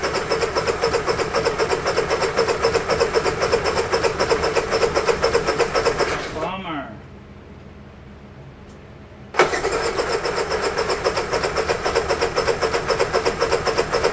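A Honda EU3000is inverter generator engine runs with a steady mid-pitched chug, cuts out into near silence for about three seconds, then abruptly roars back to full running noise.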